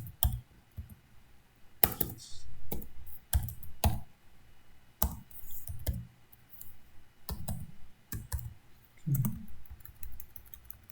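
Computer keyboard typing while writing C code, with irregular bursts of clicky keystrokes and short pauses between words, close and fairly quiet, with no talking.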